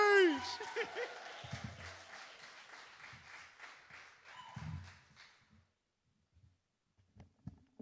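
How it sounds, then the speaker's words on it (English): At a poetry publication celebration, the audience claps a poet up to the stage, crowd applause that tapers off over several seconds into near silence, with a few thumps and faint voices. "Clap the poet up all the way to the stage."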